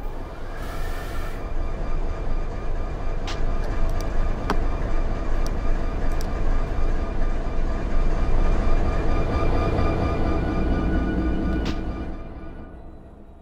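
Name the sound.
train running in the train simulator video game Run8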